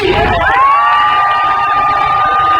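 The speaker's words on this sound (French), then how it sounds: "Mais applaudissez-vous s'il vous plaît, merci." A crowd at an outdoor rally against Christianophobia cheers and shouts loudly, with a sustained whoop and voices over a dense background of clapping and crowd noise.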